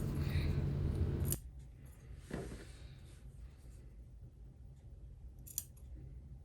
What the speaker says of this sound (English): Trim the seam allowance and clip in the curves so that you have a nice curve on the stand